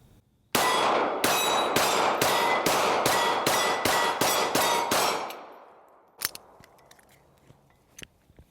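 A Springfield Hellcat .380 pistol fires 95 grain ammunition in a rapid string of about eight sharp, loud, evenly spaced shots, followed by quieter clinks and handling noises.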